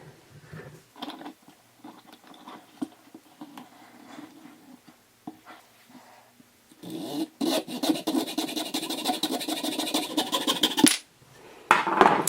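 A small wooden dowel is cut while making mini pallet coasters from popsicle sticks. After a quiet start with light handling clicks, a close, rhythmic rasping cut runs for several seconds, then stops and briefly resumes.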